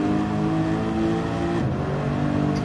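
A race car in a racing video game at Suzuka, its engine a steady, loud, tonal drone with a brief dip and pitch shift while it works through a chicane.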